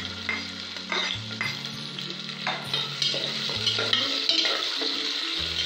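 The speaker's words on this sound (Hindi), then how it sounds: "अब मैं इसमें चॉप की हुई ऑनियन को डालूंगी।" Chopped onion fries in hot cooking oil inside a pressure cooker with a loud crackling sizzle, while a spoon scrapes and stirs in repeated strokes over a low steady hum.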